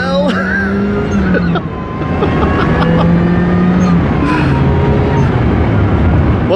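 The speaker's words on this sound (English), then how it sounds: "we just enjoy the sights and sounds of a supercharged MX5 where it should be" Supercharged Mazda MX5 NB 1.8 VVT with an Eaton supercharger driving a B-road, the engine note rising and falling through gears as it accelerates, heard loud from inside the car over road and wind noise.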